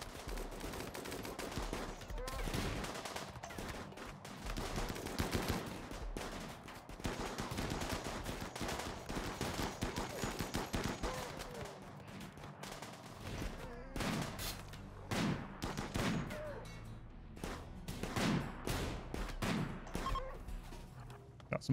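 Bursts of rapid gunfire and machine-gun volleys crackle through a RimWorld colony battle, dense and continuous with short pauses, fairly faint in the mix.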